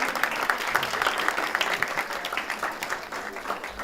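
Audience at a university event claps for an author, a brisk, fairly close burst of applause lasting a few seconds.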